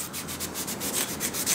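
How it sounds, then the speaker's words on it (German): Abrasive fleece scouring brass trumpet tubing in an instrument workshop, a steady close rubbing hiss with rhythmic back-and-forth strokes, no voices. "putzt die Rohre mit einem Vlies"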